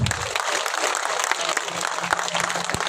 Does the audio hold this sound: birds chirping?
no